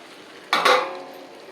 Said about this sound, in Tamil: இதுமாரி கிளறி விட்டுக்கணும்.